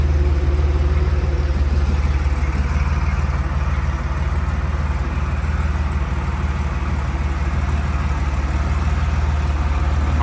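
A 1970 Porsche 914-6 sits idling, its engine giving a steady, low, even rumble that holds without revs or pauses, with no talking.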